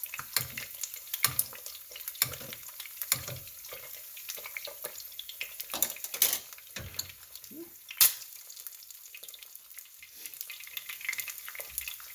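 Rice for Korean bibimbap fries in oil under a runny-yolked egg, a close crackling sizzle broken by scattered louder pops and stirring clatters.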